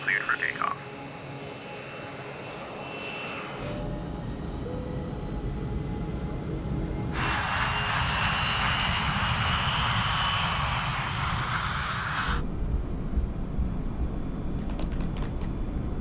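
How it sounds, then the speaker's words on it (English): West Caribbean Flight 708, a jet airliner, rolls for takeoff on runway 21 left at Panama's airport at night, its engines rising to a loud sustained roar, with cockpit radio talk at times. "West Caribbean 708, runway 21 left, cleared for takeoff."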